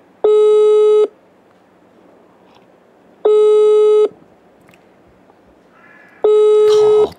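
Phone dialing in Farming Simulator 22 produces three long, loud electronic beep tones at even intervals with quiet gaps between them, ending in a short burst of noise.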